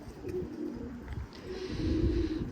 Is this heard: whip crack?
no